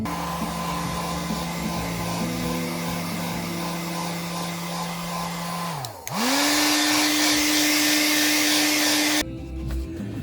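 A hair dryer blows loudly and steadily over a drawing. Its whirring hum dips briefly as the setting changes, then returns stronger and higher before cutting off abruptly near the end.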